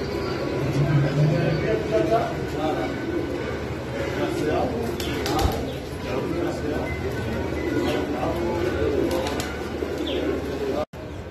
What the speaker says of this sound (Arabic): هذني طيور